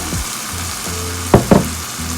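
Tomato sauce poured into sizzling stuffed pepper filling in a pan, a steady fry hiss with two sharp bursts of louder sizzle and clatter near the end, close and alone.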